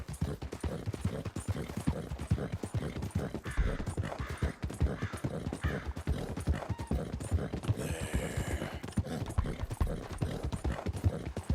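Missouri Fox Trotter horse hooves clip-clop in a steady, quick gait while being ridden in a video game, with continuous rhythmic footfalls and faint background ambience throughout.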